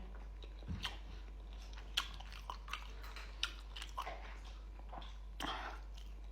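Momo dumplings chewed right at the mic, moist crunchy bites and chewing in an irregular rhythm with small smacks, close and clear over a low hum, no talk.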